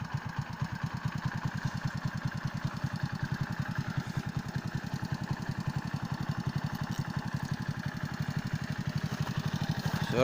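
An Alfa moped engine idling after a remote start from an installed alarm system, a steady, fast putt-putt chug that runs evenly and close up the whole time.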